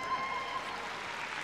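An audience at Crufts cheers and applauds steadily through a Novice Cup agility jumping final, a faint, even wash of crowd noise without a break.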